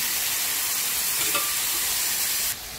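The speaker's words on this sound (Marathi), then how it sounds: "आता आपण कांदा टोमॅटो फ्राय करायला टाकूया। कांदा टोमॅटो छान असा भाजून घेऊ।" Chopped onion and tomato frying in oil in a pan for egg keema, a loud even sizzle that holds steady and then drops sharply near the end.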